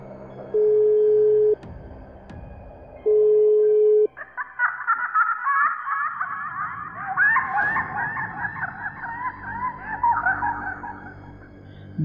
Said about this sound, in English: He gives a phone call to his friends immediately.